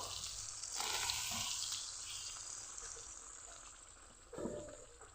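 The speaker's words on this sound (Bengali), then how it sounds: "এখন সিদ্ধ করা সিমের বিচিগুলো দিয়ে দিব" Boiled broad bean seeds drop into a spice paste frying with dried fish, giving a soft hiss and splash that swells near the start and again briefly near the end, close by, with no talk.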